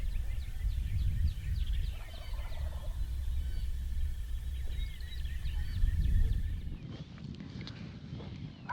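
Several wild turkeys gobble repeatedly at a distance on an overcast, windy Iowa morning, their rattling calls carrying over a low wind rumble and a few soft footsteps.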